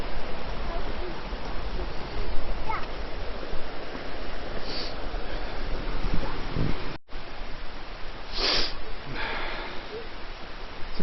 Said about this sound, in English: I can hear a big waterfall in the background.